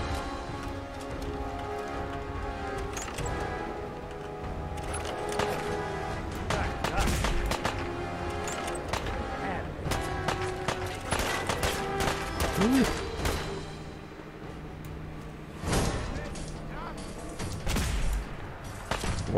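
Gunfire in the video game Fallout 4: irregular bursts of sharp shots and impacts spread across the clip, some in quick clusters, over a busy game background with occasional voices.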